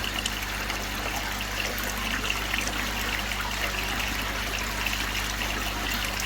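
Water trickles and flows steadily and evenly over a koi pond filter media pad throughout, with a low constant hum underneath and no voices.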